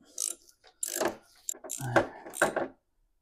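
A wrench clicks and ratchets in short bursts as a bolt is turned on the starter of a Kubota T1870 tractor with a Kawasaki engine, close and intermittent, with gaps between the mechanical rattles.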